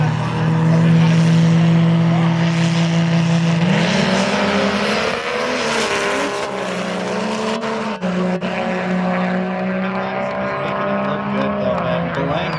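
Two diesel vehicles drag race at Rad Torque Raceway with a loud, sustained engine roar. Its droning pitch steps lower partway through, then holds on against a busy trackside background.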